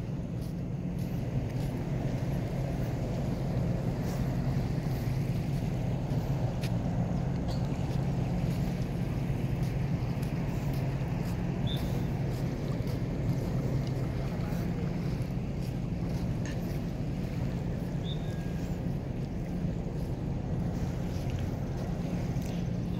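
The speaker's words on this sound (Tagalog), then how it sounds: "Andito ako ngayon sa Chocoy Beach" Sea and wind at Chocoy Beach beside a boat landing, a steady low rumble of surf with gusty wind buffeting the microphone throughout and faint talk now and then.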